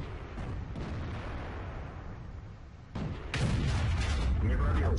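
Su-152 self-propelled gun firing in a tank video game, one heavy booming shot that breaks into a loud rumbling roar near the end, over a dense constant engine and battle din.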